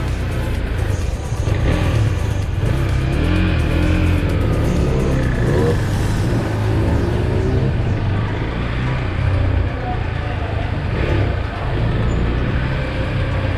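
A Husqvarna Svartpilen 401 motorcycle engine droning steadily while riding, its rumble and shifting pitch up close under heavy wind noise, with a voice talking over it.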